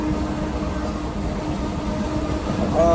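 Steady rumble and rattle inside a moving passenger train on a night run in Punjab, continuous and fairly loud throughout, with a brief high squeal near the end.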